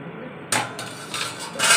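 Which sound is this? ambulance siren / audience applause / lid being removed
lid being removed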